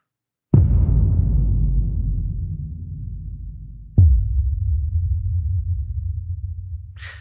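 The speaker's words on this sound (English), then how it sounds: "Okay, we got the booms up." Two deep cinematic boom hits from a trailer sound library strike about three seconds apart, each a sharp impact swelling into a long, heavy low rumble with lingering reverb.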